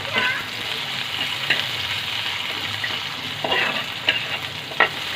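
Sliced onion and round-cut garlic frying in a pan until brown, giving a loud, steady sizzle with intermittent stirring scrapes.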